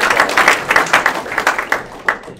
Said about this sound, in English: give her a round